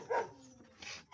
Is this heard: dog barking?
yes